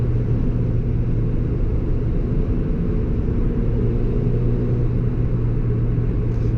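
A supercharged Toyota Yaris GRMN driving on curvy roads, heard as a loud, steady low engine drone and road rumble from inside the car, continuous and unbroken throughout.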